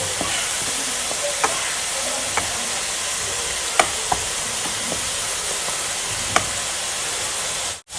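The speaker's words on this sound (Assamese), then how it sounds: "এতিয়া এইখিনি ধুনীয়াকৈ ভাজি ল'ম অকণমান সময়" Onion with ginger, garlic and chili paste frying in a pan, a steady close sizzle with occasional clicks and stirring scrapes throughout.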